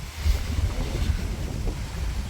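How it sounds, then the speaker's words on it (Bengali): Strong wind gusts through an outdoor village cooking area, roaring and buffeting close to the microphone in uneven surges, with low rumbling bursts and no speech. "বাতাস প্রচুর বাতাস"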